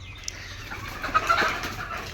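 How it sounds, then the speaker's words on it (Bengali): Desi chickens on a farm in the morning give soft, scattered clucks and short calls, faint against a quiet outdoor background with a low steady hum, with no talking. "কটা দেশি মুরগি আছে"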